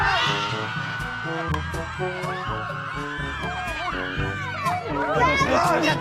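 Crowd at a motor show in Mabini, Pangasinan shouting and cheering loudly and continuously, with overlapping voices, whoops and children's shouts filling the scene at close range.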